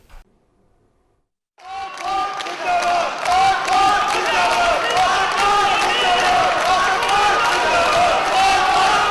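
A large crowd raises loud, continuous chants and slogans in support of Imran Khan, a dense wall of massed voices that begins abruptly after a second and a half of near silence and holds steady.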